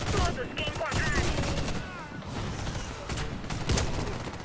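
Rapid gunfire from a first-person survival shooter game, bursts of loud overlapping shots repeating across the clip, with game ambience and a voice briefly in the mix.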